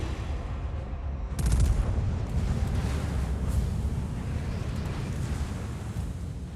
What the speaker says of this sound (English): Look at my secondaries go.